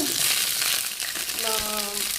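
Soft steady sizzle of cumin seeds roasting in a pan on a low flame, with a brief higher tone near the end; no one speaks.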